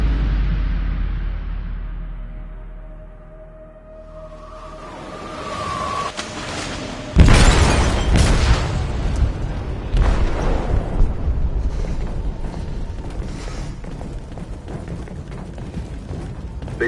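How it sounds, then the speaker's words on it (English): A large explosion erupts in a ship's hold in Detroit: Become Human: a sudden loud blast follows a quiet rumbling buildup, then a sustained roaring, crackling aftermath of debris and fire with no voices. "They detonated an explosive in the hold."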